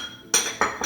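A whisk clinks against a pan while mixing sugar and cornstarch for a coconut cream pie filling. Three close, bright metallic taps ring out in quick succession.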